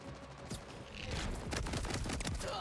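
Whiskey Foxtrot gun firing in Borderlands 4 with a scrap cannon attachment, a quiet run of rapid, punchy shots that starts sparse and swells into a dense, continuous burst of fire.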